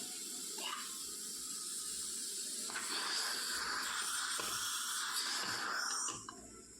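Steam hisses steadily from a pressure cooker while black kavuni rice puttu steams, a continuous breathy rush that swells partway through and drops off near the end.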